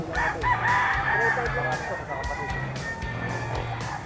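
Sweater gamefowl roosters crow repeatedly at an open-air chicken market in Bulacan, several overlapping cock-a-doodle-doo calls close by, with people talking in the background throughout.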